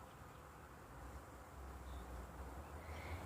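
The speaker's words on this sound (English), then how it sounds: "It's a female bee because only female bees come out around this time of year." A female bee buzzes in a faint, steady drone that carries through the whole short stretch, with no other distinct sounds.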